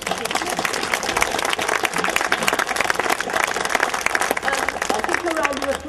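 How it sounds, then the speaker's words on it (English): Audience at an evening event with author Ann Cleeves giving her a round of applause, crisp scattered clapping from a modest crowd with voices speaking over it. "can I have a round of applause for"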